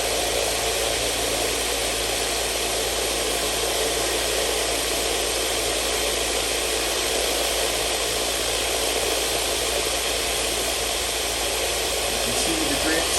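A Raytech Tumble Vibe vibratory tumbler runs with its lid on, giving a loud, constant buzzing hum with a gritty rattle that holds evenly throughout.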